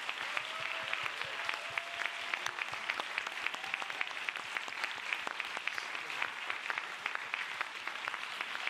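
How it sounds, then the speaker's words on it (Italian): Applause at a film festival closing and awards ceremony as the founder is welcomed on stage, sharp individual claps distinct within a steady crowd patter, moderately distant, with faint voices and music tones underneath. "voglio far salire sul palco, accompagnato dal vostro applauso, Giovanni Minerva!"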